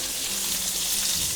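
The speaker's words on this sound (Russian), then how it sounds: "пока луковица обжаривается" Onion frying in a pan while cooking veal liver in red wine, giving a steady hiss of oil sizzling close by with no voices over it.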